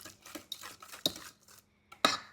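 Eggs and granulated sugar are stirred in a bowl, making quick clinking and scraping taps of a utensil against the side, close and quiet, with a brief pause before a final sharp clink.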